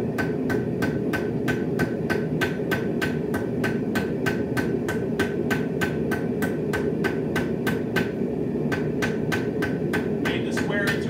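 Hammer striking hair pin stock on an anvil in a fast, even rhythm, dozens of sharp ringing blows close by over a constant roaring forge background.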